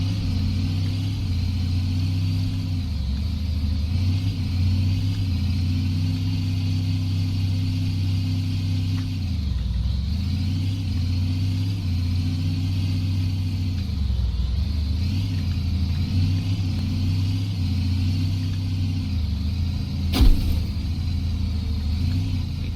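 A car's engine drones steadily in the Big Ambitions video game, a low continuous hum that rises and dips slightly in pitch as it drives, with one brief click near the end and no talking.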